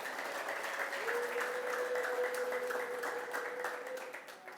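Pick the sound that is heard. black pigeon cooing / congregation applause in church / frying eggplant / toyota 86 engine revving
congregation applause in church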